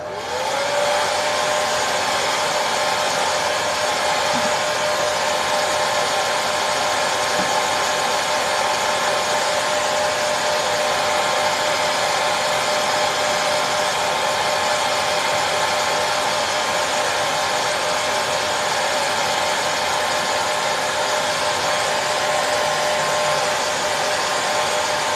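Hair dryer blowing continuously on a snowy mountain scene painting, a loud, steady whirring roar that holds unbroken for the whole stretch with no talk over it.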